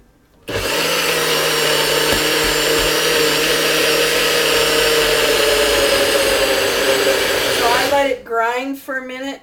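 A Nutribullet blender grinds kefir with a loud, steady motor whir for about eight seconds, then cuts off as a voice speaks briefly at the end.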